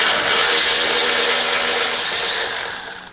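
A long 4mm hex key working a hex head bolt near the ignition on a motorcycle dash, giving a steady close ratcheting, mechanical rasp that runs throughout and fades slightly at the end.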